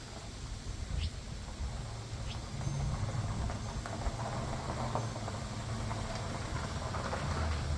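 Rain and wind outdoors at night beside a 2000 Chrysler Grand Voyager SE, a steady low rumbling gust noise with a soft patter of drops and occasional faint ticks, moderately quiet, no voices.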